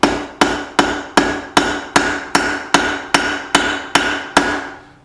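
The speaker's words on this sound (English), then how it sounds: "now I'm going to hang it over the edge of the anvil, start to draw out my tang" Eleven evenly spaced ringing hammer blows strike a heated bolt on an anvil while a knife tang is drawn out over the anvil's edge, loud, close and steady, with no talk.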